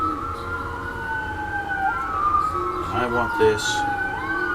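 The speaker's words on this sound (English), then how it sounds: "Thank you, ambulances." Passing ambulance sirens wail in long rising and falling sweeps, several overlapping at once, moderately loud and steady across the moment, while a person speaks briefly over them.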